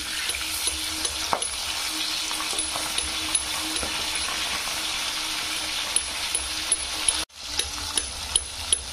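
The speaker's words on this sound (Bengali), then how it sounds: "সুন্দর ভাজা হয়েছে, বাকি মাছগুলো এইভাবে আমি ভেজে নেবো" Bata fish frying in a pan of oil, a steady close sizzle with small crackles and clicks throughout, a brief dropout near the end, no talk.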